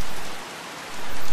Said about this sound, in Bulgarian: Бурята сякаш отмина, но дъждът започва отново